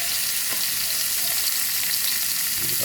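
Chili, garlic and pork stir-frying in a hot pan, a loud, steady, close sizzle with no pauses and no talk.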